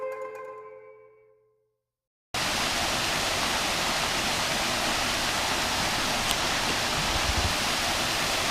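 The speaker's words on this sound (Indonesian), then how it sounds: "Air terjun pertama di Desa Penimbung tampak sederhana namun memikat." A waterfall in Penimbung village gives a steady, dense roar of falling water without a break, loud and continuous, after a short moment of fading tone and silence at the start.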